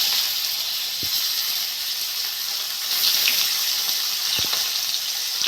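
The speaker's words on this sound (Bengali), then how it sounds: "পেঁয়াজটা একটু ভেজে নেবো।" Onions frying in oil with whole cumin seeds give a steady, close sizzle and hiss, broken by a couple of short clicks, with no voices.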